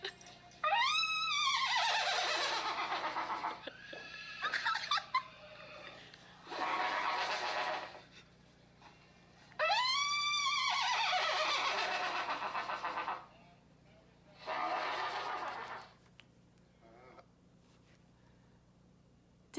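Inside a horse barn, a trumpet plays descending whinny-like calls imitating a horse, and horses answer with whinnies and snorting bursts, trading calls back and forth at moderate distance with pauses between.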